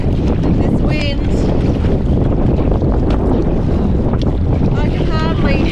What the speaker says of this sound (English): Oh, we have some challenges today. This wind,